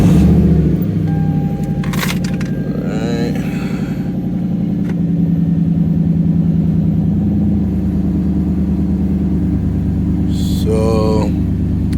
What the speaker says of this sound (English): All right, let's turn this car on.